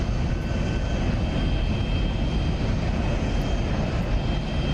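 Jet engine roar from an SR-71 on afterburner in the DCS flight simulator, a steady, loud, dense broadband rush that holds unbroken throughout with no speech.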